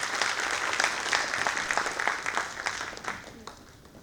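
An audience at a school parent-training session claps to welcome school leaders and teaching staff, a lively burst of individual claps that rises, holds and then thins out toward the end.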